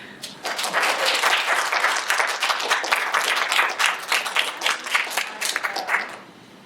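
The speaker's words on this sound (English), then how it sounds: "we should clap for that." Sustained applause from an audience at a film screening and Q&A, dense clapping that rises quickly and holds steady for several seconds before fading at the end.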